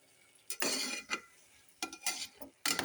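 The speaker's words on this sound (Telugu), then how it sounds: "ఇప్పుడు ఇదంతా కలుపుకున్నాం కలిసేలాగా." A spoon scrapes and stirs gurugaku greens with tomato in a pot, producing several short bursts of scraping and clinking separated by quiet gaps.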